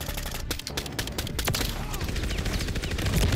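LM-S weapon firing in a free-for-all video game match, a dense, continuous clatter of rapid shots that holds steady and grows slightly louder toward the end.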